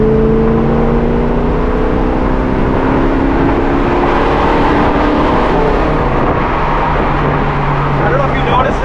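A 1971 Camaro accelerates at highway speed, its engine droning with rising tones under loud road and wind rush, heard from inside while people talk over it.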